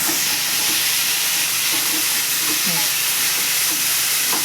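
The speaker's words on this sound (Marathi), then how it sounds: "ते बघा आता हळूहळू हा गुळ वितळायला लागलाय एकसारखं हलवायला लागतं" Jaggery filling for fried modak melts in a pan under constant stirring, a loud continuous sizzle and hiss with occasional spoon scrapes and a few faint voice-like sounds.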